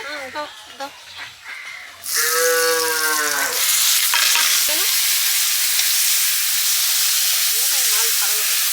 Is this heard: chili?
yes